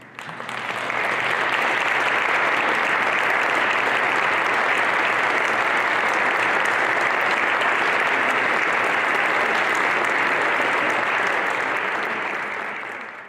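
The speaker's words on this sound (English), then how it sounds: "Would all of our honorees please stand so we can give you a round of applause." Sustained applause from an audience honouring medal recipients at a church diocese convention swells in quickly and holds steady and full for over ten seconds before tapering at the end, with no talking.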